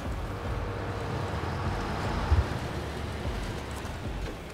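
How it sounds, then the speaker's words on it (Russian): Steady rain in the off-road truck game SnowRunner, a dense, even hiss with a soft low rumble and one brief thump partway through, no talking. "Еще и дождь начался."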